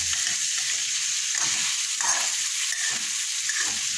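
Pinakbet vegetables and ingredients frying in a pan until slightly toasted, with a steady loud sizzle throughout and bursts of stirring scrapes every second or so, no voices.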